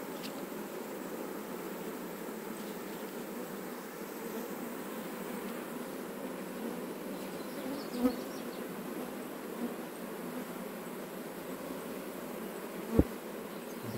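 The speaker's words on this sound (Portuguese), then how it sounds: "Olha aqui quanta abelha ainda. Estão vindo pra cá, ó." Steady swarm of honeybees buzzing densely around a wooden log hive during a rescue near a house, a continuous even drone with a couple of brief knocks, no talking.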